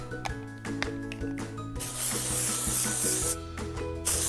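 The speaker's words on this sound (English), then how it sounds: "So I'm gonna put a ton of dry shampoo now." Dry shampoo is sprayed onto styled no-heat curls in short aerosol bursts, a close hiss that rises into a longer spray and then a few brief puffs, mixed with the rustle of hair.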